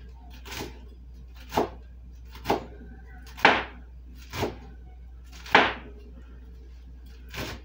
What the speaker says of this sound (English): And I start chopping it.